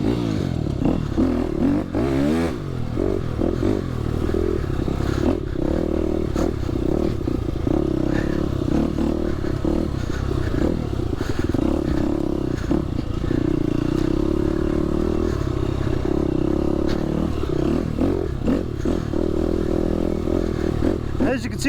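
A KTM dirt bike rides soaked single-track trails, its engine droning steadily and revving up and down, with clatter and scraping from the wet ground throughout.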